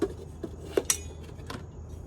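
Metal camping cookware, a small frying pan and plates, clink and clatter together in a few sharp, bright knocks at close range, then settle into quiet handling.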